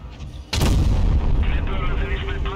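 A single heavy cannon shot from a Vz. 55 tank in World of Tanks Blitz booms out loud and close, followed by a rumbling, ringing decay and faint game effects.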